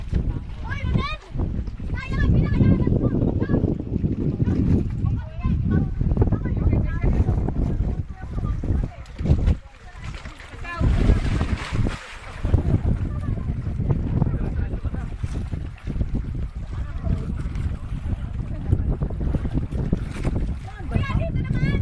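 Gusty wind buffeting the microphone on open water by a reef, a constant rushing roar under people talking and calling out nearby.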